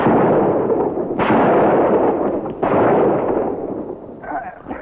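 Gunfire in a Fortnite match, a dense loud barrage of shots and blasts running continuously and fading slightly toward the end.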